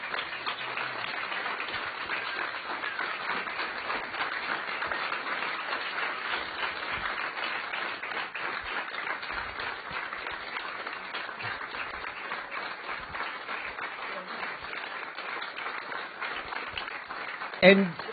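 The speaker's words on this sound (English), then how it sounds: "you can stop clapping for them" A large audience at the Explorers Club 50 symposium applauds and claps in a dense, steady roar that holds at an even level for the full length, ending on a brief louder burst.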